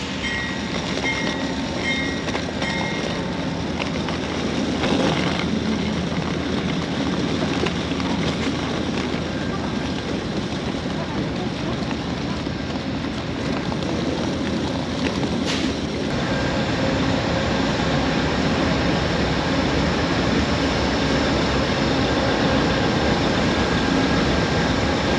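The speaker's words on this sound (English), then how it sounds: "We are heading on one of our favorite trains with Amtrak, and that is the Coast Starlight." Amtrak's Coast Starlight passenger train rolls steadily from Emeryville, California toward Los Angeles, with a continuous loud rumble and faint rail clatter heard from inside the car and no clear speech.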